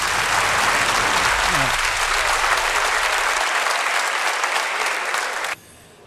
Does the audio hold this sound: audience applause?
yes